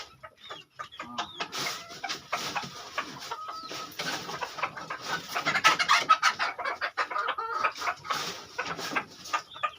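A rooster calls repeatedly to hens with clucking, crowing-like bursts, fairly close and loud, with no talking.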